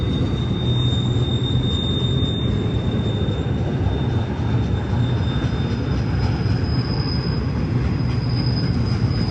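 A train rounds Sullivan's Curve at about 35 mph, a loud, continuous rumble of wheels on rail with a thin, sustained high squeal running throughout.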